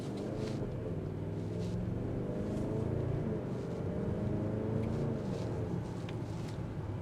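A Range Rover Sport SV on 23-inch wheels drives and accelerates, giving a muffled, steady engine rumble and road hum heard from inside the cabin, moderately quiet with no voices.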